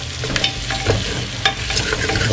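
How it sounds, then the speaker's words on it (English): Mutton leg soup being stirred in a pot, a steady sizzling bubble with repeated scraping strokes of a spoon against the pot, close and fairly loud, without talk. "I'm just going to give it a good stir"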